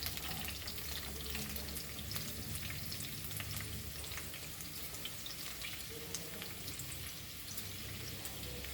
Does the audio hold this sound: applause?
no